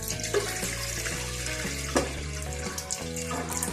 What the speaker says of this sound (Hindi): अब हम पैन में दूध डालेंगे।